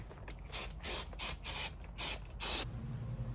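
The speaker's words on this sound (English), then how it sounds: "I'm just going to go with some silicone spray on the beads" Five short bursts of silicone spray hiss onto the beads of a tyre in a workshop, loud and close, each lasting a fraction of a second with brief gaps between them.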